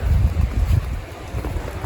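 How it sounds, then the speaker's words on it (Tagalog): Wind blowing hard across the microphone, producing low rumbling gusts that rise and ease, with no voices. "Kasi mahangin siya eh."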